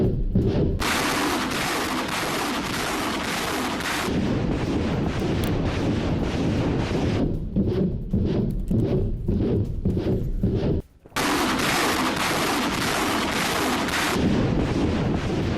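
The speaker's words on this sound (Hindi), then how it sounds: "RM-70 MLRS से यूक्रेन का हमला।" A Czech-made RM-70 multiple rocket launcher fires in a combat attack, its launches merging into long stretches of harsh roaring and blasting, broken by short gaps and a brief silence before another sustained burst.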